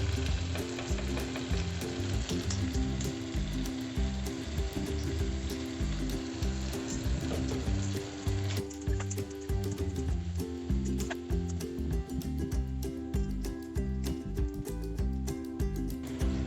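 Fish fries in a pan for a mustard fish curry, sending up a loud, steady sizzle with bubbling crackle and a few soft stirring sounds, and no speech over it.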